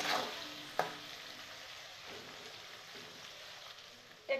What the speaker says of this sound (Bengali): পেঁয়াজ রসুনটা একটু ভাজা ভাজা হচ্ছে